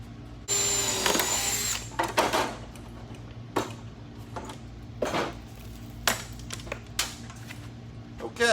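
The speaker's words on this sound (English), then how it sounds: "go ahead and drill out this vent now" Vent on a Winston Cup Buick windshield drilled out in a garage: a short burst of high-pitched drill whine, then scattered clanks and taps of tools and metal, close and fairly loud.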